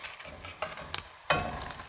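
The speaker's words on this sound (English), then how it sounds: "Now I'm listening to my skillet and I hear it. It's not sizzling as hard." Salmon patties frying in a hot skillet give a steady, soft sizzle with a few sharper crackling bursts, close by and with no talking.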